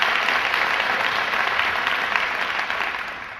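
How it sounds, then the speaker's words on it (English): Dense, loud audience applause fills the hall at a Respect For Life event, a continuous wash of clapping that fades slightly toward the end, with no talking over it. "You can applaud that."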